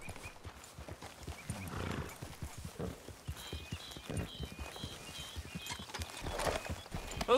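In Red Dead Redemption 2 a horse walks along, its hooves giving soft, steady clip-clops at moderate distance over quiet ambience, with a brief neigh-like call partway through.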